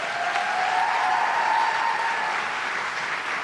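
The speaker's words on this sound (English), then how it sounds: "So please, another round of applause for our team." An audience at a women's sports honors event claps for their team after a historic season, a sustained, even burst of applause with faint tonal murmur beneath, holding strong before easing slightly at the end.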